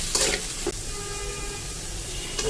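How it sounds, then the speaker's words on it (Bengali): Prawns frying in oil with a little salt in a village kitchen, giving a steady broadband sizzle with a few brief utensil clicks, close and fairly loud, with no talking. "প্রথমে আমি চিংড়ি মাছগুলোকে একটু তেলে ভেজে নেব"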